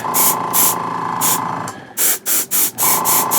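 Spray paint in a concrete grey hissing onto studio-scale Star Wars probe droid dispatch pod model parts, as a string of short close bursts, first longer and then quick repeated puffs separated by brief pauses.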